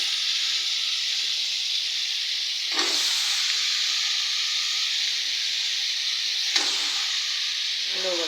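Eggplant, radish, beans and potatoes cooking in a hot pot give a steady close hiss and sizzle, with two brief louder bursts of steam or stirring and no talking.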